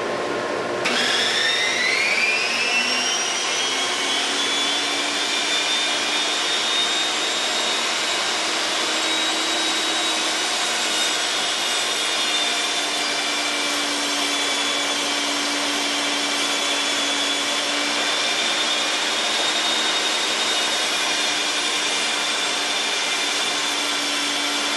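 Power saw milling a spalted log into roughly one-inch lumber, spinning up sharply at the start and then holding a steady, loud whining drone throughout.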